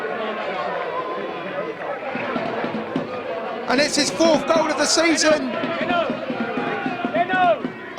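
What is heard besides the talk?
football crowd cheering behind the goal after a goal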